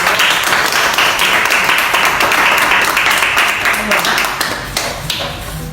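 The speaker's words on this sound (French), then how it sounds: "Acclamons pour papa." A live audience applauds and claps for a volunteer, the father, called up during an indoor demonstration of an absorbent towel; dense steady clapping fills the whole stretch, loud and close, fading slightly near the end.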